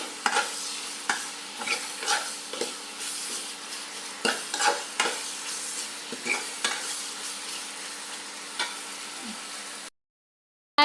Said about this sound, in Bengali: পেঁয়াজটা ভাজা ভাজা করে নিই।